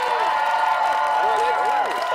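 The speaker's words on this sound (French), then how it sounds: "Je veux qu'on les applaudisse" Studio audience at a French-language game show applauding and cheering as two contestants are welcomed, a dense continuous roar of clapping and shouts with talk over it.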